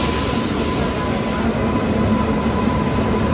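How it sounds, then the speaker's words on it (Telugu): A train hauled by a green WAG-9 electric locomotive rolls in, making a loud, continuous, even rumble with a faint steady whine and no breaks. "మనకి ఈ ట్రైన్ అయితే వ్యాగ్ 9 ఇంజిన్ అయితే వస్తుంది"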